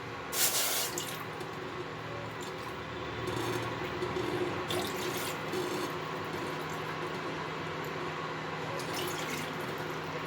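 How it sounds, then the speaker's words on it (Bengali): Water poured from a cup into a bowl while preparing kheer, a close splashing trickle that starts with a sharp gush and continues as uneven pouring and dripping. "আমি 4 কাপ জল দিয়ে দিচ্ছি মোট।"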